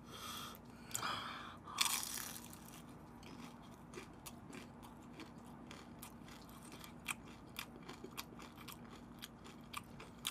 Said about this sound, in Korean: 만두가 진짜 바삭바삭해.